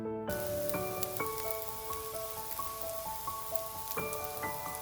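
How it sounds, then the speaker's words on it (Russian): Liver pancake batter sizzles steadily in a hot pan with a constant crackling hiss, close by. Bright ringing metallic tones chime on top of it. "Жарим дальше."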